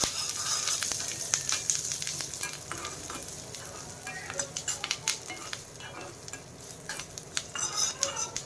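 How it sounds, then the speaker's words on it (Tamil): Pepper, ginger and curry leaves frying in oil in a pan sizzle steadily and close up, while a spoon stirs with repeated scraping clicks and light metallic taps. "எல்லாத்தையும் போட்டு நல்லா கொஞ்ச நேரம் ஆயில்ல ஃப்ரை பண்ணிட்டு"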